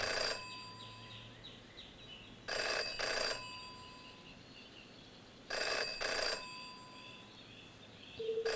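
A telephone rings in the detective adventure video game Jenny LeClue Detectivu: two pairs of bright electronic bell rings, a few seconds apart, fairly quiet against a low background hum with no talking.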